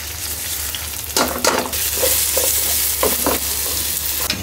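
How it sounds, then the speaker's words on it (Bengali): Pulao rice with spices frying and being stirred in a pan, a steady sizzle broken by several scraping strokes of a spoon, close and fairly loud with no voices. "চাল ভাজা শেষ, এখন এই যে পানি দিয়ে দিলাম।"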